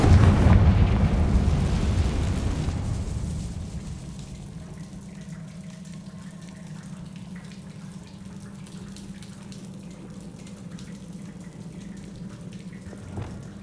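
Confringo spell explosion in Hogwarts Legacy, a loud booming blast at the start that rumbles and decays over several seconds into a low steady ambience, with faint crackling debris afterward.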